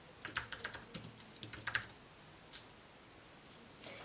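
A short burst of typing on a computer keyboard, faint and close, with about a dozen quick key taps followed by near silence and a single later click.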